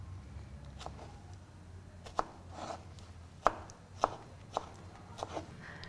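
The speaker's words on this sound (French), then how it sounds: "Donc maintenant, on va couper les fraises." A knife chops strawberries into small cubes on a cutting board, giving a handful of sharp, close, separate taps spaced unevenly over a quiet background.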